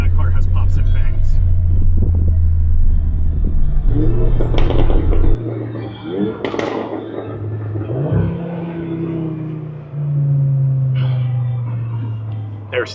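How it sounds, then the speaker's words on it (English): A car rumbles past with a low engine drone that rises, shifts and fades, fairly close, while people talk over it throughout. "I bet you that car has pops and bangs."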